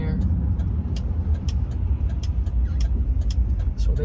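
A car rolls slowly into a parking lot with a steady low engine and road rumble, heard from inside the vehicle with faint ticking clicks over the top.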